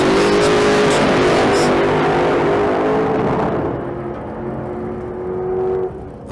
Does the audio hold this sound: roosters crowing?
no